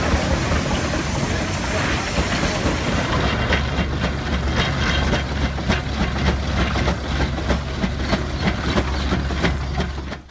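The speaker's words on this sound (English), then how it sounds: "These amazing machines from a day long ago were used in farming, as tractors and to power things like threshers." Antique steam tractors once used for farming and powering threshers chug steadily in a loud, continuous rumble with rapid rhythmic clanking, heard outdoors at a southwest Missouri steam engine association gathering.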